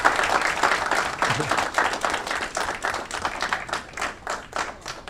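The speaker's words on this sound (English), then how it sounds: "Another round of applause for Pastor Michael Hurst." Audience applause at a city council meeting in Aurora, honoring a pastor: a steady wash of clapping that swells and pulses for about five seconds, fairly close and moderately loud, with no talk over it.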